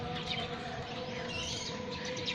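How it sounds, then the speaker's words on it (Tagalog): Many birds calling at a Birds of Paradise bird park, a dense layer of chirps and tweets over steady ambient hum, moderately distant and continuous. "ang dami-dami nga talagang ibon dito"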